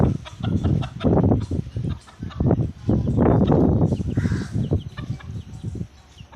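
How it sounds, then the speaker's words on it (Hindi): A rooster and hens cluck and squawk continuously nearby, several birds calling over one another in a busy, noisy flock. "ये देखिए मुर्गे को।"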